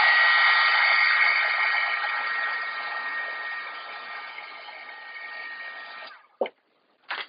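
Heat tool blowing steadily to set embossing powder on a watercolor card, a close, loud airy whir that slowly fades, then stops with a couple of brief handling knocks.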